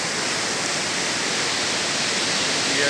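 The Mandakini, a mountain river at Gaurikund, rushes in a continuous loud roar of whitewater, steady and unbroken throughout.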